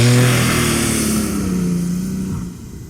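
Revving from a Porsche 911 991.2 twin-turbo all-wheel-drive with a seven-speed manual: a loud engine note that rises, then gradually eases and fades over a few seconds.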